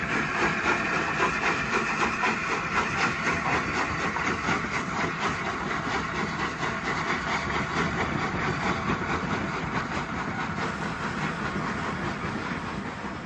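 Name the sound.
steam locomotive train at King's Cross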